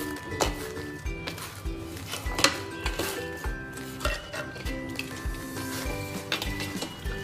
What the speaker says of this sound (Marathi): थोडं कोमट आहे तरच आपण ते मळून घेणार आहोत।